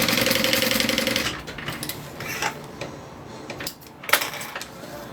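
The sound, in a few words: sewing machine sewing side seams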